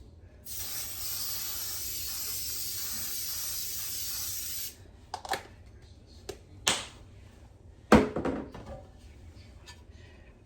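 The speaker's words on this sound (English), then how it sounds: "take this over to the sink and spray my pan" A continuous aerosol baking spray hisses steadily onto a pan at a sink for about four seconds, followed by a few short clicks and knocks of handling nearby.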